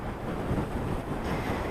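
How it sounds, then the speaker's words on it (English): Strong outdoor wind buffeting a microphone during a rough-weather news report, a continuous loud low rumble with gusty surges and no talking. "the wind has been relentless this morning"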